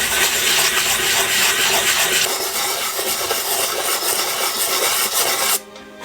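Brake pads scrubbed back and forth on 1500 grit sandpaper laid on a flat surface, a loud close rasping scratch in quick repeated strokes that stops abruptly near the end.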